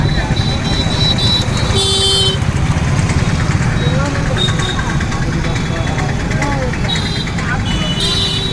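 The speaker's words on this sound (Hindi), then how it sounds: "आप यहाँ पर भी सुन रहे होंगे, हॉर्न बड़ी छूट से बजाए जा रहे हैं" Vehicle horns honk in short bursts over a constant drone of street traffic and idling engines in Jagannath Puri, India, at night, with a voice talking throughout.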